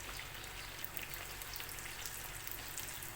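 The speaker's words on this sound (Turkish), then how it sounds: "Şimdi sırasıyla diğer böreklerimi de kızartacağım." Börek pastries deep-frying in hot oil, a steady dense sizzle and crackle with fine bubbling spatter running continuously and close, with no voices.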